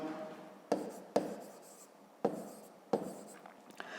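A pen or pencil scratches out a math solution on paper in a quiet room, in four short, distinct strokes spaced about a second apart, each trailing off softly.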